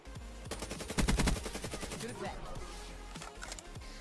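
Video game gunfire rattles out in rapid automatic bursts, loudest in a dense volley near the middle. Shorter scattered shots follow amid game sounds.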